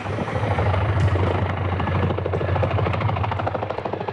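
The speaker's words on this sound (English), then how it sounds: "I have dozens and dozens of video of low-flying military helicopters over my home" Low-flying military helicopters pass over a home, a loud, steady rotor thumping with a rapid pulsing beat that fills the air without a break.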